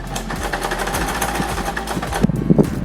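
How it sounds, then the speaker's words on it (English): A sewing machine joins skirt panels with a half-inch seam allowance. It runs with a loud, steady mechanical whir and rapid needle chatter, close up, and slows into a few heavier clunks near the end. "all I have to do to sew this is to join them together by ½ inch"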